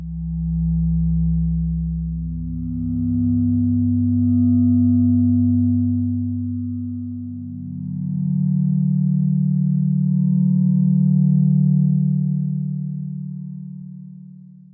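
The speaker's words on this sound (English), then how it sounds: "if you give it a long attack and a longer release, and then particularly if you play it in the low end, you get a really nice pad" A metallophone sample played low as a soft pad with long attack and release: sustained, smooth tones swelling slowly in and fading out, overlapping notes changing a few times, with no talking.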